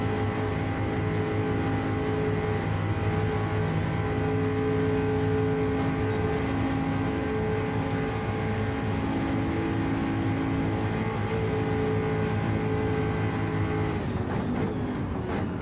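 A Jaguar F-type in a racing video game holds a steady, droning engine note under acceleration for a long stretch, loud and continuous, ending with a brief clattering shift in sound near the end.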